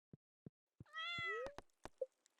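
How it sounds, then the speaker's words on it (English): A cat in the Stardew Valley video game gives one short, rising meow, set between soft, sharp clicks and plops from the game. The whole sequence is quiet and alone. "Give the kitty some love."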